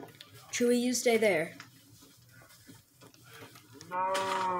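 Cattle mooing in a farming video game, two drawn-out low moos near the start and another at the end, loud and close, with a person talking quietly in between.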